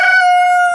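A rooster crows once, loud and close, a single sustained call that holds one steady tone before it fades out.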